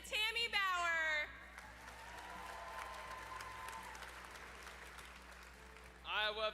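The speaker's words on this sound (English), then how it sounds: "give a big round of applause to my parents" At the Iowa FFA State Leadership Conference general session, a large hall crowd applauds in a faint, distant, even wash of clapping, with a single amplified voice speaking just before and just after the applause.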